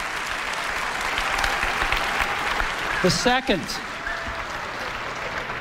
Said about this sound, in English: That's the cheering.